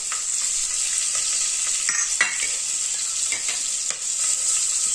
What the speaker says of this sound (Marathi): आता हे छान 1 मिनिट परतून घ्यायचंय